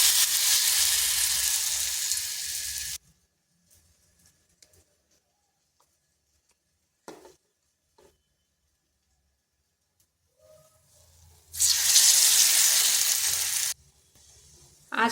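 Bread slices dipped in tomato sauce sizzle on a hot tawa over low heat, a loud steady frying hiss for about three seconds, then near silence with faint clinks, before the sizzle returns strongly.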